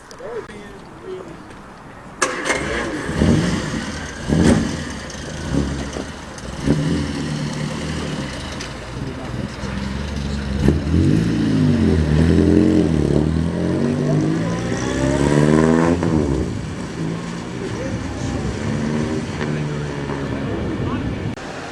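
Classic British cars, including a Triumph 2000, pass at the Crewe Heritage show, with engines rising and fading as they drive by, while someone talks over much of the sound.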